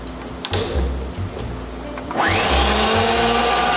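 Pipe threading machine cutting threads on steel pipe, a steady loud motor whir with grinding, rising in pitch and intensity partway through as the die bites, continuous and close.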